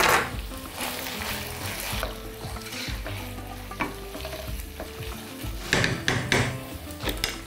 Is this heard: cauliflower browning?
yes